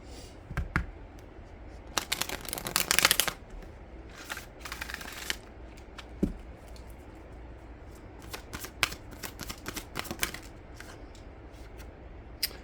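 Oracle cards are shuffled by hand in several bursts of rapid riffling and flapping, separated by scattered soft taps and clicks of cards, fairly close and quiet.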